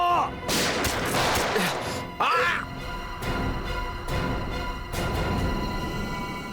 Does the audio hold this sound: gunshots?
yes